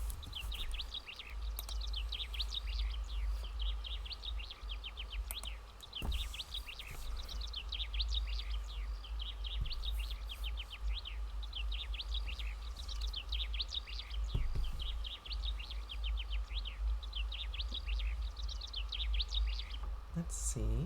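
Birds chirp and tweet in rapid, repeated bursts in the Bugsnax video game, a busy chorus of short calls over a low steady hum that continues throughout.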